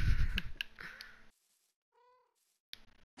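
A cat meows in the video game Minecraft, several short, clear mews close by, then a pause of silence and a thin, high call before the meowing returns at the end.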